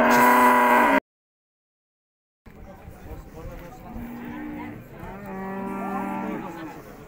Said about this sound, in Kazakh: Сиыр базардағы ең ірі сиыр ғой деймін.